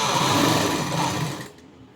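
A sewing machine stitching the gathered edge of a child's puff sleeve runs in one steady, close whirring burst for about a second and a half, then stops abruptly, leaving only faint room hum.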